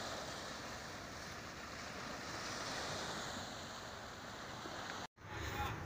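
Steady wash of Red Sea surf breaking on a beach in Egypt, with wind rumbling across the microphone; a brief dropout near the end.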